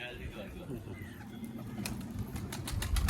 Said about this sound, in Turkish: arkadaşlar kuş geldi